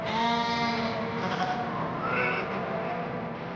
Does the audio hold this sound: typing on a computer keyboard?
no